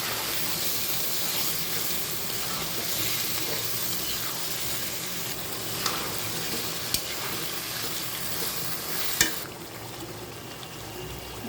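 Tomatoes sauté with potatoes in a hot pan, a loud, dense, unbroken sizzle lasting throughout, punctuated by a few sharp utensil knocks near the end, close by with no voices.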